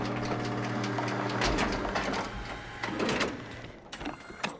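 A pilot seat machine activates in the sci-fi horror video game Soma, a mechanical whirring and clicking sequence with a steady tonal hum and a few sharp knocks, fairly close and moderately loud, with no talk.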